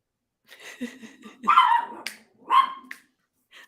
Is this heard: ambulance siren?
no